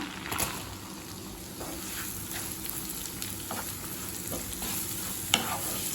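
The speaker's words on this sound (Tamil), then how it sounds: "வெங்காயம் கலர் நல்லா மாறுற வரைக்கும் வதக்கிக்கலாங்க." Three finely chopped onions sauté in butter with a bay leaf, a steady sizzle punctuated by occasional scrapes and stirs of a spoon in the pan.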